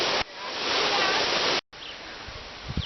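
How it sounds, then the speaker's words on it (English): A waterfall on the La Cloche Silhouette Trail in Killarney Provincial Park roars as a loud, steady rush of falling water, close by, briefly cut off and then resuming. "More waterfall."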